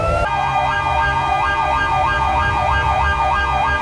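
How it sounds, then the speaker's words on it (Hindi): A loud wailing police siren sweeps up and down steadily, starting abruptly and continuing without a break over a low rumbling engine. "siren on"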